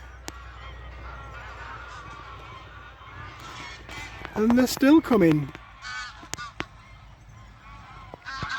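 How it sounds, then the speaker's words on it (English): A large flock of geese honks overhead outdoors at a rural cabin in the morning, with a loud burst of overlapping calls peaking midway and scattered faint honks before and after, while someone speaks briefly at the start. "That's a lot of geese."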